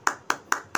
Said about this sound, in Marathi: चला, सविता ताईंसाठी टाळ्या.